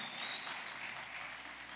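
A church congregation applauds, a soft, distant wash of clapping with no individual claps standing out.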